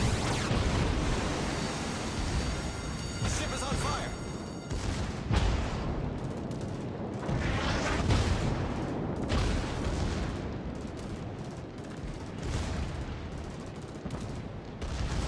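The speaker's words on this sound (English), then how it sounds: "My secondary guns continue to pepper him" Battleship secondary guns fire in World of Warships, loud close booming volleys and rumbling bursts rolling over one another continuously, with dense explosive noise throughout.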